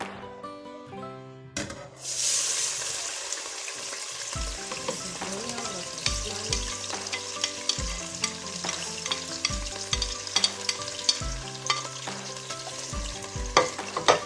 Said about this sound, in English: I will leave it to fry for some minutes.